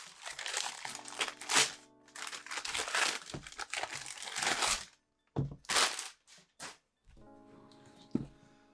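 Tape and plastic packaging on a haul of manga volumes are peeled off and crumpled up close, with loud crinkling bursts, brief pauses and short sharp crackles.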